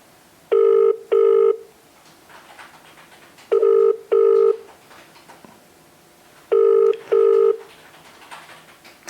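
A telephone rings in three evenly spaced pairs of double electronic tones, clear and fairly loud, with quiet gaps between the rings and no answer.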